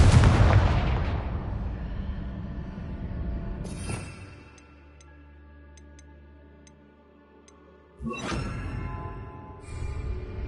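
Booming fire-spell explosions from Confringo in Hogwarts Legacy: one heavy blast fades out, a sharper burst hits midway, then a second loud explosion lands near the end, with faint ticking chimes and game music between.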